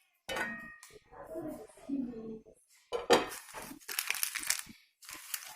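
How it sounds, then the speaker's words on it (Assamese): A metal lid lifted off a cooking pot used for steaming an eggless peanut curd cake, giving a few close clattering clinks and scrapes alongside someone talking. "ঢাকনিখন মই এতিয়া গুচাই চাম"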